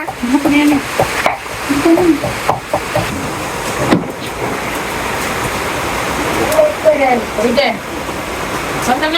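Sar-puti fish coated with turmeric, chili and salt fry in a pan with a constant, close, crackling sizzle, while people talk over it.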